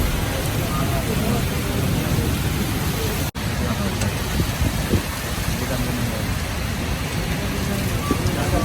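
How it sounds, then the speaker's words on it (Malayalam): Heavy rain and strong wind in the UAE roar as a dense, continuous close wash of noise, loud and unbroken apart from one brief dropout. "പക്ഷേ മഴ ഭയങ്കരമായിട്ടുണ്ട് കാറ്റും"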